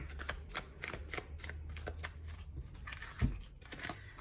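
A deck of tarot cards is shuffled repeatedly with a steady riffling, fluttering rhythm, close and clear, ending with a soft thump as the cards are squared.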